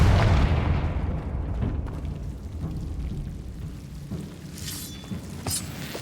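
The Confringo blasting spell explodes in Hogwarts Legacy, a loud deep boom at the start that rumbles and fades over several seconds, followed by faint scattered crackles.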